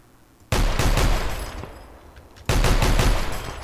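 APC cannon fire in Project Reality: two long, loud, rapid bursts, the second starting after a short gap, each made of heavy close thumping shots with a booming low end and ringing decay.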